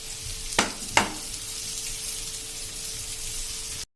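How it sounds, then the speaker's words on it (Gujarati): Okra coated in chickpea-flour spice mix sautés in a pan over a medium gas flame, a steady close sizzle broken early by two quick stirring scrapes. "ગેસની ફ્લેમ એકદમ આપણે મીડિયમ રાખશું અને આ રીતે આપણે હલકા એવા એને સાંતળી લેશું"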